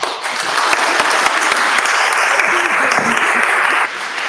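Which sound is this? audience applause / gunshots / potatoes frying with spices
audience applause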